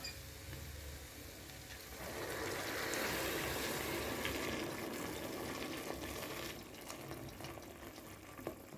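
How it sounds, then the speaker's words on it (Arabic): Hot boiled water pours into a pot of lentils on the stove, a steady broadband rush swelling after two seconds and easing off near the end over a low sizzling simmer, with no talking. "دابا غادي نجيب اخوتي الماء طايب، ما نديروش الماء بارد، نديرو الماء طايب"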